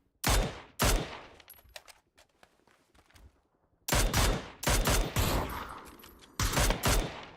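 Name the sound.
gunfire in a first-person shooter video game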